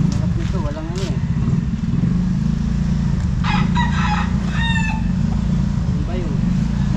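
Chickens and roosters at an outdoor pet market, with crowing calls rising over a steady rumble of motorbikes and traffic while people talk nearby.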